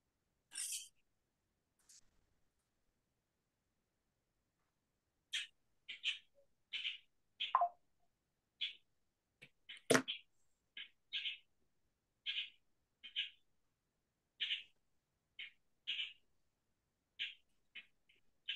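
A small bird chirps indoors in a quiet room, giving short, sharp, scattered calls, at first sparse and then coming at a fairly steady pace, close and clear against near silence.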